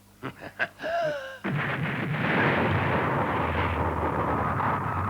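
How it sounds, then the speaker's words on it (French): A few short sharp knocks give way to a sudden roaring blast that keeps rumbling loudly and steadily to the end, broad and close. "Nous avons été endommagés par l'explosion."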